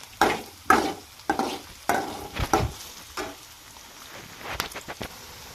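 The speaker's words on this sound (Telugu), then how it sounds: "బాండీలో ఆయిల్ వేసాక ఉల్లిపాయలు, కరివేపాకు వేయాలి. కొద్దిసేపు వేయించిన తర్వాత" Onions and curry leaves fry in oil in a pan, with repeated stirring scrapes and sizzling bursts in an uneven rhythm, close up, fading to a quieter sizzle near the end.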